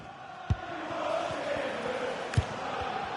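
A stadium crowd in a football video game keeps up a steady roar of cheering and chanting at medium distance, with a couple of sharp thuds of ball kicks cutting through.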